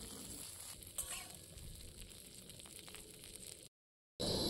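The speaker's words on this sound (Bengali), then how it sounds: "1 মুঠো কাজু কিশমিশ ঘিয়ের মধ্যে ভেজে নিচ্ছি।" A handful of cashews and raisins frying in a spoonful of ghee in a wok, a soft steady sizzle close by with faint stirring, then a brief silence near the end.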